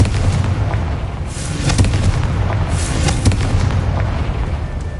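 Confringo, the explosive spell in Hogwarts Legacy, is cast as a dense, continuous blast. Rumbling booms and crackling bursts swell and fade over several seconds, loud and unbroken, with no talking.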